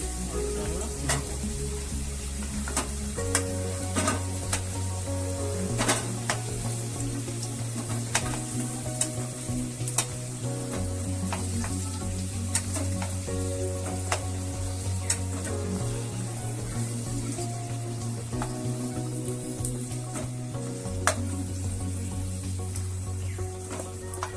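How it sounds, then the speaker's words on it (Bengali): Potatoes fry in a pan for Bengali chicken kosha: a steady oil sizzle runs throughout, broken by frequent sharp scrapes of a spatula stirring, over a low droning tone. "দেখতে পাচ্ছেন আলুটা ভাজি প্রায় কমপ্লিট।"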